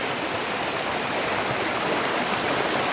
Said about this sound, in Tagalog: Maaga po tayo dito sa ilog po.